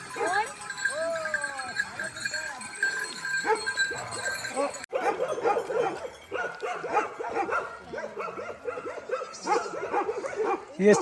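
Dogs traveling with a caravan of nomadic Bakarwal herders in the snowy Himalayas of Jammu and Kashmir bark repeatedly amid bleating sheep and goats, close and busy, with people talking over the animals.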